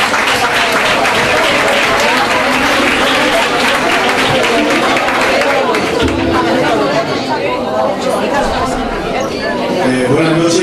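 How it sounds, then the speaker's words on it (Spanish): Loud applause from a crowd at a Día de Andalucía celebration, dense steady clapping mixed with chatter and cheering, ongoing throughout. "Un aplauso para él."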